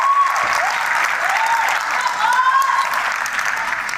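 Audience applause for a panelist at a business forum, a steady wash of clapping from a modest crowd that holds evenly for several seconds, with faint whistle-like tones riding above it.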